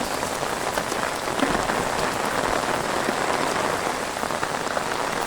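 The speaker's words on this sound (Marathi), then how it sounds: "प्रमाणात पाऊस चालू आहे नाशिकला." Heavy monsoon rain pours steadily in Ozar near Nashik, a dense, even hiss of drops drumming on surfaces, loud and continuous with no voices.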